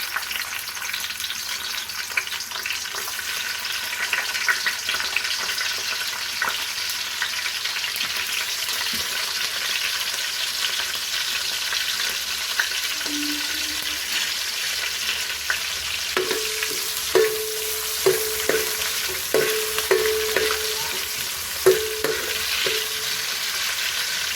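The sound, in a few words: chopped onions frying in hot oil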